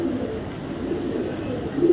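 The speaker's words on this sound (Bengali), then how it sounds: "এখান থেকে ভাই এরা হোয়াইট গ্রিজেল কবুতরের বেবি" Baby white grizzle pigeons coo softly and continuously nearby, a low murmuring sound throughout the short stretch.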